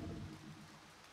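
Steady rain falls in the video game To the Moon, a faint, continuous hiss of drops on a surface heard alone, with no voices.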